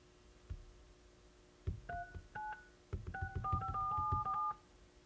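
Dialing tones from a DIY Raspberry Pi Android Auto car head unit, a string of short touch-tone beeps, a few sparse at first and then a quick run of them.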